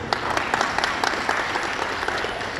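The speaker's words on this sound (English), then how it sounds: "a big round of applause for all of you guys once again" A room of students claps together after an interaction session, a brisk, steady round of applause at moderate volume with no voices on top.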